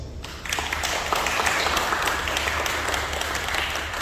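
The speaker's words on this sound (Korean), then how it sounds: "큰 박수로 맞이해 주세요." Steady audience applause at a Korean AI education seminar, welcoming a presenter; a moderate, even wash of many hands clapping that swells after a brief quiet start and holds without break.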